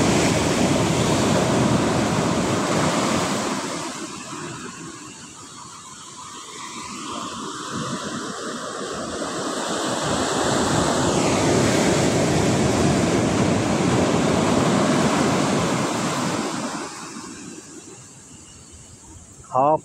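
Ocean waves at Sagareshwar Beach in Vengurla, a continuous loud roar of surf swelling and easing over time with wind buffeting the microphone, close and sustained.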